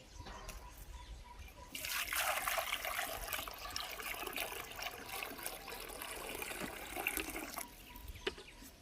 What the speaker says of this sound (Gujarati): તો આપણે આમાં પાણી ભરી દઈશું.